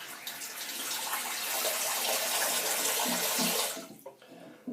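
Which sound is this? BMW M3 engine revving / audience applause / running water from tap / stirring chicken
running water from tap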